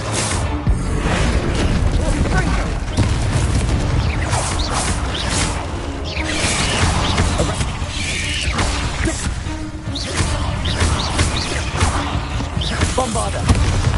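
Dense, loud spell combat in Hogwarts Legacy, with blasts from the Bombarda spell amid creaking, crashing mechanisms and clattering debris, continuous throughout with a voice calling out at times.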